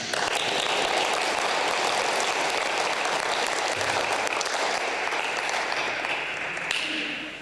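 Sustained applause from an audience at an international school literacy celebration in northern Japan, a dense steady clapping that fills the whole stretch and thins slightly near the end.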